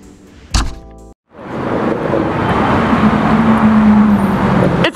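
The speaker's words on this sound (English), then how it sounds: "It's a Carrera GT." A Porsche Carrera GT starts up after a door thunk, its engine settling into a loud, steady roar that holds close by to the end, with no talk over it.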